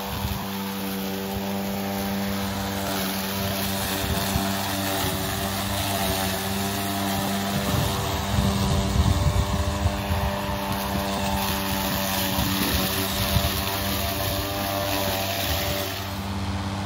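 A Mowrator radio-controlled electric lawn mower drives crossways across a grassy ditch, giving a steady loud motor whine with a constant tonal hum that roughens and strains briefly midway as it works through the grass.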